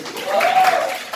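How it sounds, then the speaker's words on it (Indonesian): Clapping for a group at a coaching session for academic supervision, a short burst of applause from a small room of people, with a voice heard over it. "Tepuk tangan untuk"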